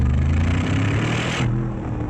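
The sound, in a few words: Brabus Mercedes G63 engine exhaust noise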